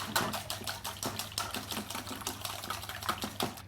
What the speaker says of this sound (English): Give them a good beat until they're broken right up nice and smooth